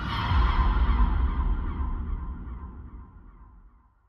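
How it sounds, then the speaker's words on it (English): Loud, close seagull squawking with harsh overlapping calls that fade and trail away over a few seconds, heard alone. "these squawking seagulls were in her head"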